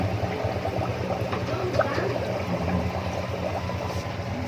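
A Jebo 9970 aquarium air pump bubbling water, a continuous close gurgling hiss with steady low pump hum underneath, moderately quiet and unbroken.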